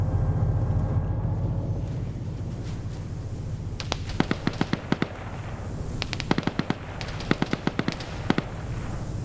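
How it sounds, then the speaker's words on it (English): Rapid bursts of machine gun fire crackle in a video game battle, sharp repeated volleys clustered in several rhythmic strings over a steady rumbling background, with no voices. "Wheaton quickly takes fire because that's an MG"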